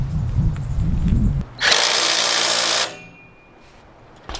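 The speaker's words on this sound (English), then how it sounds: "So I'm just tightening the last of the bolts." A power drill tightening bolts on an off-grid setup in the Colorado mountains, heard as one loud, close whirring burst lasting just over a second, after a short stretch of low rumbling and before a quieter tail.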